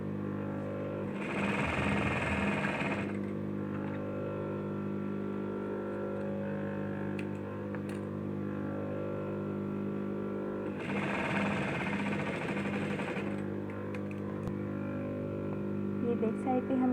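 A sewing machine stitches piping along the back hem of an A-line shirt in two bursts of about two and three seconds, separated by a steady background hum, while someone talks throughout.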